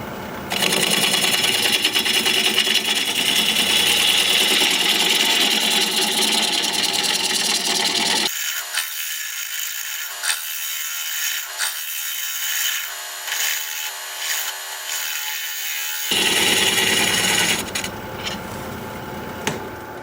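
A wood turning tool cuts into California olive wood on a lathe, a loud continuous scraping whir that drops away briefly in the middle, leaving thinner high rasping, then returns at full strength.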